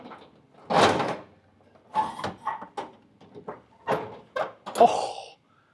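An old drawer being wrenched and forced open, a series of sharp knocks, scrapes and thumps in irregular bursts separated by short pauses, close and fairly quiet.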